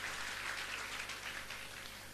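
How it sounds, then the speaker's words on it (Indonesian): A congregation claps together at a Christmas service in church, a steady, soft wash of applause holding evenly throughout with no voices over it. "Berikan tepuk tangan kita bagi Tuhan."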